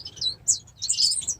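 Bengalese finches and cordon blues in an aviary with tall grasses and nesting brush, giving several quick high chirps and tweets in short overlapping bursts, fairly close and clear.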